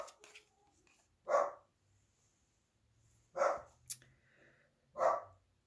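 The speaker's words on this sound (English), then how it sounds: "Sorry about my dog." A dog barks three times in short, separate bursts, fairly close and loud, with quiet gaps between and a faint background hum.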